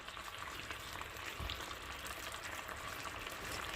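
Beef negimaki, thin beef rolled around scallions, fries in a little olive oil in a pan, giving a steady, dense sizzle with crackling that runs the whole time at close range and with no talking.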